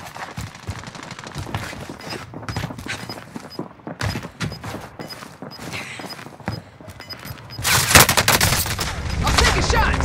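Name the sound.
gunfire in the video game Warzone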